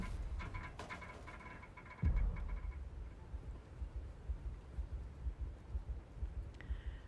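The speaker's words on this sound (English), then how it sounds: "I can hear my heartbeat now." Low, pulsing thumps of a heartbeat in the Dune video game, a steady rhythmic throb beginning after a louder low thud and continuing faintly under ambient game hum and brief tonal effects.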